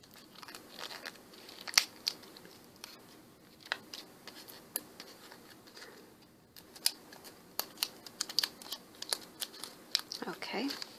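Scissors snip through craft material in a run of short, crisp cuts, some single and some in quick clusters, close and fairly quiet with light crinkling between.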